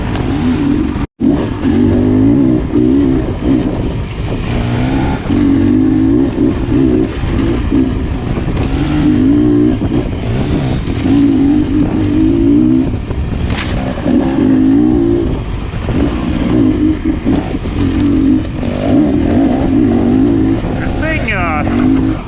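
A Beta Xtrainer dirt bike ridden fast along singletrack, its engine droning steadily and close throughout with a brief sharp knock near the start and someone talking over it.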